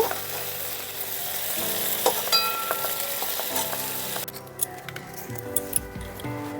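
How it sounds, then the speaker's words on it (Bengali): Eggplant pieces fried with turmeric and salt being lifted out of hot oil, with a steady close sizzle and occasional light clinks of a utensil against the pan; no talking. "বেগুনগুলোকে খুব সুন্দর করে ভেজে নিয়েছি, এখন তুলে নিচ্ছি।"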